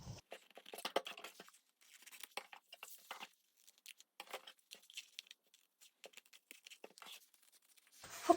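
Fabric and regular scissors trimming excess cloth while making a vintage-style pouch, heard as short irregular crisp snips and rustles, close and fairly quiet, with no talking.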